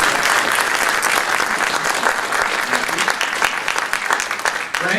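Audience applause for community award winners at a township meeting, a dense steady clapping that fills the room from start to finish without letting up.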